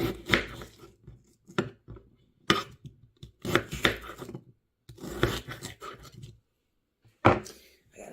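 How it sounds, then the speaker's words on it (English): A knife chops onions on a cutting board for beef and onions, with clusters of close, crisp chopping strokes separated by short pauses. "This a lot of onion cutting."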